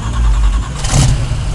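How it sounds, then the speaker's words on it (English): A 1972 Chevrolet Nova's engine cranks and catches, giving a loud, close, rough mid-pitched roar that surges and revs briefly with no pause, and no one speaks. "Check this out. Crank it up, Rudo."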